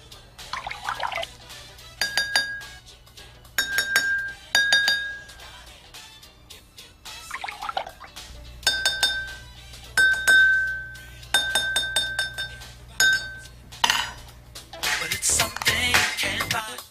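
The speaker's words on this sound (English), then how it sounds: "Repeat this process until both glasses are in tune or play the same pitch." Two drinking glasses ring at a nearly matching pitch. Repeated clear tones sound in clusters against a faint low hum, with some soft rubbing and clinking between the notes.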